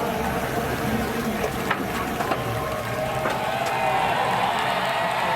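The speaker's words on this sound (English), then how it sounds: "to a great round of applause for what he just endured" A large crowd at a NASCAR Camping World Truck Series race at Texas Motor Speedway cheers and applauds, a dense distant wash of noise with scattered claps rising slightly toward the end.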